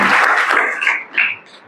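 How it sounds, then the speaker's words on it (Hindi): A Hindi Christian congregation claps during a sermon: a short burst of group applause that is loud at first, then thins and fades out within a couple of seconds, with no speech over it. "आमीन, ताली बजाइए।"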